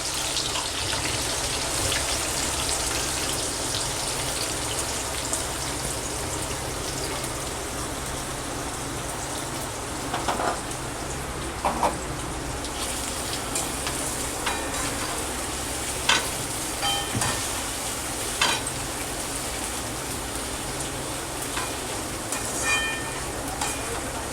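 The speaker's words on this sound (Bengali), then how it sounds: "তেলটা আমার গরম হয়ে গেছে আমি পেঁয়াজগুলো দিয়ে ভালো করে লাল লাল করে ভেজে নেবো" Sliced onions crackle steadily in hot white oil for dum biryani, a continuous close sizzle with a few sharper clicks and pops scattered through, no talking.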